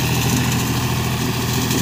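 A heavy John Deere 5045D tractor engine runs a rotary slasher steadily at a constant throttle, loud and close, with a droning low hum and no voices.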